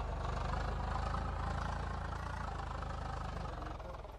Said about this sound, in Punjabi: ਬਰਾੜ ਬਾਈ ਉਹਨਾਂ ਦਾ ਟਰੈਕਟਰ ਹੈ